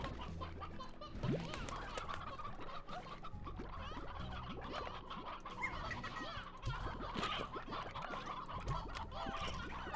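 A flock of chickens in the Slime Rancher video game, clucking continuously for several seconds with scattered squawks over steady game ambience, moderately loud and without speech.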